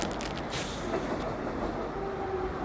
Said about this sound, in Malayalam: ട്രെയിനുകൾ അങ്ങോട്ടും ഇങ്ങോട്ടും ശരിക്ക് പോകുന്നുണ്ട്